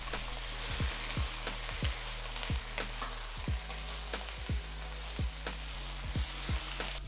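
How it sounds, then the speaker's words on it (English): Cauliflower stir-frying with garlic and ginger slices in a wok produces a steady sizzle punctuated by repeated low, rhythmic knocks and scrapes of the spatula against the wok, close and moderately loud. "Add cauliflower, stir fry for 2 to 3 minutes"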